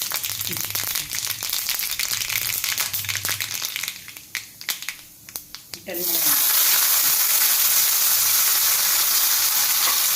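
Crackling, popping spatter of mustard seeds hitting hot oil, with brief speech early on, then a loud, dense sizzle that swells and holds steady.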